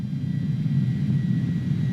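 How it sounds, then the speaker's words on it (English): Simulated Airbus A310-300 jet engines in Microsoft Flight Simulator 2020 produce a steady, loud, low roaring drone during the landing approach, continuous and unbroken, with no voices. "I'm gonna let this plane land itself."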